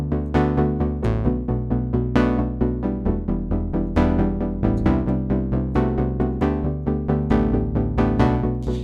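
A synthesizer preset played in the reFX Rippler plugin, giving a steady stream of bright, plucked, rhythmic notes over sustained chords, loud and continuous for about nine seconds with no voices.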